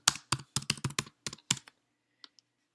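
Typing on a computer keyboard at a desk, a quick burst of about ten crisp, close key clicks, then two faint taps after a pause, with no talking.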